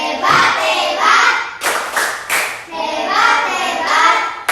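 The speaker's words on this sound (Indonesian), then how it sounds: "Kita tepuk hebat untuk mereka lagi." Schoolchildren in an Indonesian classroom perform a rhythmic cheer clap for classmates: young voices chant in unison between bursts of sharp, synchronized hand claps and thumps, the pattern repeating at close range.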